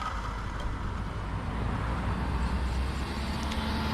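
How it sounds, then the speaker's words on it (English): A car passes on a road outdoors, a steady broadband rumble of tyres and engine holding at moderate level throughout with no voices. "Gotta let this car pass."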